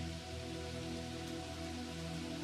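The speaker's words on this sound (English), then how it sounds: "it begins to sprinkle, a few fed raindrops landing on the soil or water" Light rain sprinkling, scattered raindrops landing on soil or water, heard as a steady soft patter throughout, fairly faint and unbroken, with no voices.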